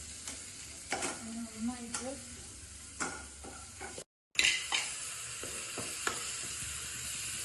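Chicken masala being stirred and sautéed in a pan for chicken roast, with Kashmiri chilli and garam masala: repeated scraping stirs over a steady sizzle, close and clear, with a brief dropout midway.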